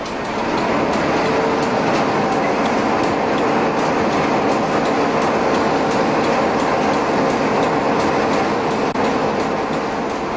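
A Newfoundland Railway train runs along the tracks beside Terra Nova National Park, a loud steady rumble with the rhythmic clickety-clack of wheels over rail joints, close and continuous throughout.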